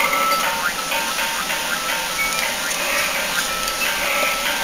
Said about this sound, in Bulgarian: Това е звука на колите от анимацията.